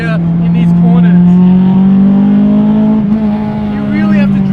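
Honda Civic Type R FD2R with a naturally aspirated engine on individual throttle bodies, accelerating hard through corners. A loud, steady engine drone climbs gradually in pitch for several seconds, with voices faintly audible underneath.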